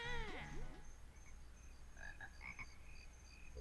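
Several frogs croak in a burst of overlapping calls, with a few higher chirps following, from a swamp-like level of the video game Banjo-Kazooie over low background ambience.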